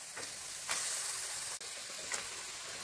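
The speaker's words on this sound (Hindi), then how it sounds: "मसाला अच्छी तरह से भून चुकी है, अभी ऐड करेंगे मटन" Mutton added to frying masala in a pan gives off a steady, close sizzle with soft broadband hiss and faint stirring scrapes throughout.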